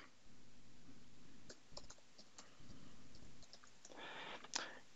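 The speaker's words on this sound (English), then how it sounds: "So I'm typing the username, and then I will type the password." Keyboard keys tapped while entering a password on a computer, scattered light clicks at close range in a quiet room, with a brief burst of denser clatter near the end.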